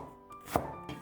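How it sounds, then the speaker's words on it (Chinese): A single knife chop on a cutting board through a half stalk of scallion being cut into small pieces, one sharp close knock that stands alone in a quiet room. "切成葱花"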